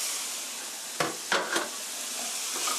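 Steady sizzle of meat stir-frying with sliced mushrooms and mini paprika in a hot pan, broken by a few sharp scrapes of a spatula tossing the food.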